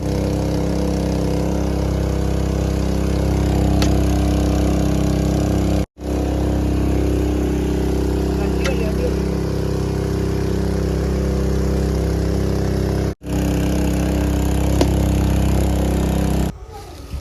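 A water pump motor drones steadily and loudly for the whole stretch, with a low hum, briefly cutting out twice before resuming. No one speaks.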